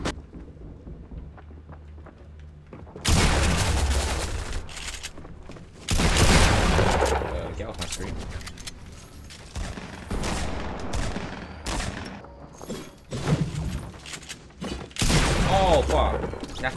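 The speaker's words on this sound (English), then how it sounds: "Wait, he's got shotguns." Shotgun blasts in the Fortnite video game come in several loud bursts and fusillades, separated by quieter gaps, with a player talking and reacting over the gunfire.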